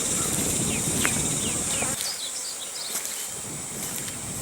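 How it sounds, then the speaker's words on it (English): Honey bee foragers buzz as they fly off from a hive sample outdoors, a dense steady hum with crickets chirping and occasional birdsong in the background. "I'm going to let the foragers that were in this sample fly"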